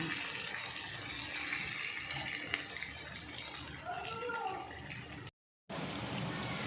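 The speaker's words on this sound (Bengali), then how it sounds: "এবার ওই পাত্রতে একটু জল নিয়েছি জল নিয়ে ভালো করে একটু ধুয়ে নিয়েছি" Water poured and swirled in a cooking pot to rinse out leftover spices from a pabda fish poppy-seed dish, a soft continuous splashing with a voice briefly heard before a short silent gap.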